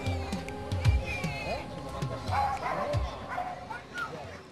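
Near Saqqara, dogs fight over table scraps, barking, yipping and whimpering in short repeated bursts that run on beneath steady spoken narration.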